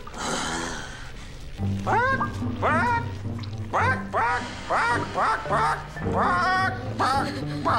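A person imitates a chicken with a run of squawking, clucking calls in quick bursts, loud and close, using the voice alone.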